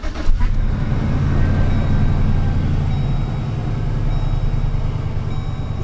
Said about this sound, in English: This is a cold start on a 2004 Chevrolet Express 3500 V8.